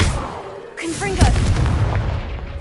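A Confringo fire spell in the Hogwarts Legacy video game goes off with a sudden burst, followed by a crackling, rumbling blast that sustains loudly for a couple of seconds, with whooshing swept tones mixed in.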